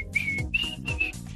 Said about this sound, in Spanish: el chiflidito